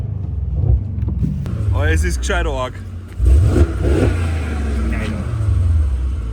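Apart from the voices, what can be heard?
Mercedes E63S AMG engine revving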